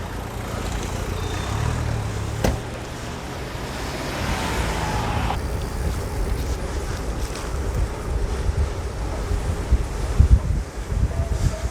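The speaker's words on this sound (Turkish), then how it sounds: "Oldukça rüzgar var." Strong wind in Ankara roars and buffets the microphone of a moving bicycle throughout, a dense low rumble with gusts and occasional thumps, loud and continuous.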